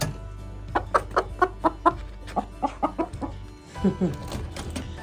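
A broody turkey hen on a homestead clucks in a rapid run of short, evenly spaced calls, close and fairly loud, then pauses before a lower pair of clucks.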